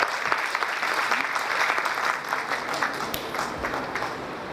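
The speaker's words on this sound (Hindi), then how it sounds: "दोस्तों जोरदार ताली स्वागत कीजिए संदीप गुप्ता जी का।" Audience applause at a Vestige direct-selling event, welcoming the master of ceremonies to the stage: dense, steady clapping from a large crowd that holds fairly even throughout, with no talking over it.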